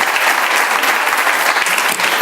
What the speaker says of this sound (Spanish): sin que le demos un fuerte aplauso a la cabeza visible de la organización